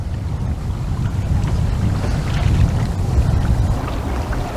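Wind gusts over a lake while bass fishing from a boat, a loud continuous rumble buffeting the microphone, with water faintly beneath and no talk.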